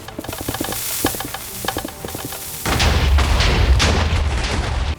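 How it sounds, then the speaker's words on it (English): TNT from a pressure-plate trap in a Minecraft Cobblemon mod dungeon blows up: scattered clicks give way to a loud, sustained explosive roar lasting to the end. "If you press the wrong pressure plate, the TNT underneath it will fall and explode."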